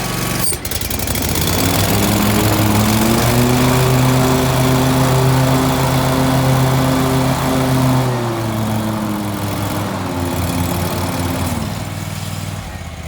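Steady, loud drone of a Scag V Ride II stand-on lawn mower engine running continuously at constant throttle, close by, its tone dipping slightly near the end with no talk over it.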